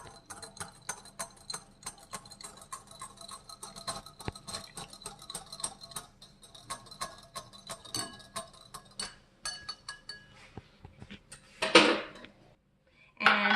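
Red velvet cupcake batter with vanilla extract is mixed in a bowl, the utensil clicking against the side in a quick, even rhythm, ending in a louder scrape and clatter.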